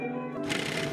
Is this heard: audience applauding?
no